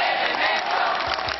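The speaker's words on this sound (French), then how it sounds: "Lorsque le pape prend la parole, la foule scande son nom comme on soutiendrait un champion." A large crowd chanting the Pope's name, heard as a dense, loud mass of raised voices with rhythmic surges, close and continuous over the whole brief moment.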